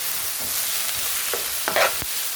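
Fried rice seasoned with curry fries in a pan and gets stirred, a close steady sizzle broken by several sharp spatula scrapes toward the end, no voices.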